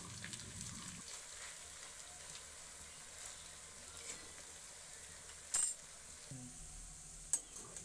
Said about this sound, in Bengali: তার জন্য গ্যাসের আঁচ সবসময় লোতে রেখে বড়াগুলো আমি ভেজে নেব।